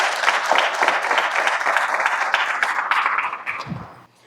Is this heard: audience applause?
yes